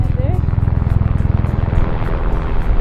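A loud helicopter passes over a Scottish wild area, its rotor giving a rapid, even thudding pulse that stays strong and close throughout.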